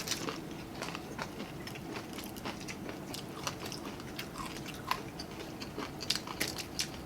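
Close, crisp crunching of mountain popcorn shrimp being chewed during a Filipino mukbang, irregular bites and crackles repeating throughout with no talking.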